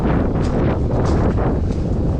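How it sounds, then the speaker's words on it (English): Steady broadband southerly wind gusting around 26 to 28 at a beach by the sea, roaring and buffeting a microphone, with rising gusts and no voices, loud and continuous throughout. "It's a southerly wind that's gusting about"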